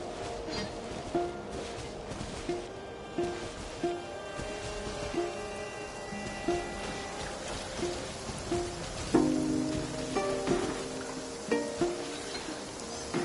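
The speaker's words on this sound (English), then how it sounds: "I like the rain." Steady rain falling in the Genshin Impact video game, a constant soft hiss of drops with light pattering throughout, behind soft repeating musical plucks.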